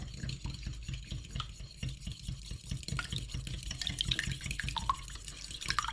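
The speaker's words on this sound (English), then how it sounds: "Right, whisk your eggs up." Eggs whisked in a bowl for homemade carp boilies give a steady, rapid scraping and tapping rhythm throughout, close and moderately loud, with no talk over it.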